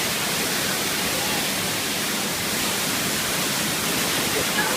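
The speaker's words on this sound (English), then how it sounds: "So much water just rushing down." La Mina Falls in the El Yunque rainforest pours down as a continuous broadband roar of rushing water, steady and fairly loud, with no change in intensity throughout.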